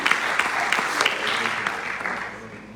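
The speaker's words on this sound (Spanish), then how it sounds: "Den un aplauso al Eterno," An audience at a Passover (Pesaj) religious gathering claps and applauds. The dense applause is close and sustained, then gradually thins toward the end.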